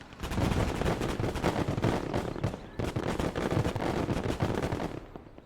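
British rocket artillery fires in the WWII game Gates of Hell: Ostfront. The loud, dense volley of rattling blasts rolls on almost without pause, with a brief dip midway before the barrage resumes.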